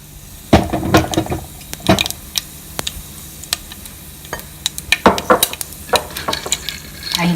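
Peanuts and roasted gram sizzle in a pan with mustard seeds, the seeds popping and crackling while a spoon stirs and scrapes close by at an irregular, busy pace.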